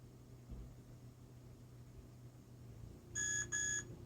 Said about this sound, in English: And eventually it's gonna beep.